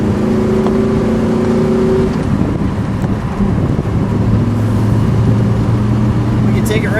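A red 1970 Pontiac GTO Judge convertible, 400 Ram Air V8 with a four-speed, drives at speed as engine drone rises and falls through shifts, with wind rush over the open car and voices speaking now and then.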